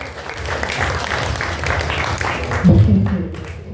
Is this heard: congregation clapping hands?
yes